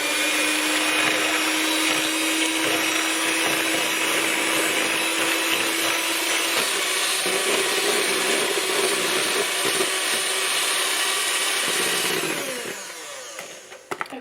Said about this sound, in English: So we're going to put the sugar in with the eggs, and we're going to beat this till it's doubled in size.